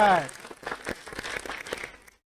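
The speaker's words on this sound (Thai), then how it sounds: "ขอเสียงปรบมือด้วยครับ" A voice briefly at the start, then a short burst of scattered clapping from a small crowd at a secondary-school English quiz contest, fading out after a couple of seconds.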